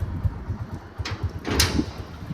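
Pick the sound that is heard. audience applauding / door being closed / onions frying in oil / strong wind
door being closed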